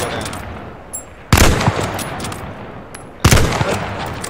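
Two loud gunshot bursts ring out in a shooter video game, each a sharp broadband blast followed by a short decaying tail, set apart by quieter game ambience with faint clicks between them.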